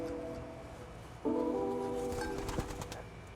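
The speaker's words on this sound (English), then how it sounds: "pigeons are super tame" Pigeons in a backyard coop kept for bird dog training, giving soft, low, repeated coos close by that swell louder partway through, with faint rustling and no talk.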